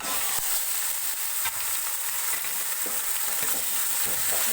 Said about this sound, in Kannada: ಈರುಳ್ಳಿ ಎಲ್ಲ ಫ್ರೈ ಆಗಿದೆ ಈಗ ಚಿಕನ್ ಹಾಕೋತಾ ಇದ್ದೀನಿ